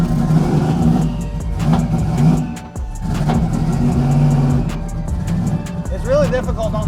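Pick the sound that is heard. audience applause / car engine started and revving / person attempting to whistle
car engine started and revving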